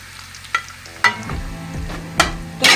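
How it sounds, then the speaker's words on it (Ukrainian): Sausage frying in rendered pork fat in a pan, with crackling sizzle building up and a few sharp pops and utensil clicks, heard up close with no talk. "І буду обсмажувати ковбаску на тому жирі, що шпондерка"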